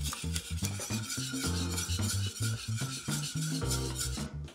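Spoon stirring thickened lemon curd in a pan with soft butter, a rhythmic rasping scrape against the metal repeating steadily and close, with a brief faint sizzle and no talking.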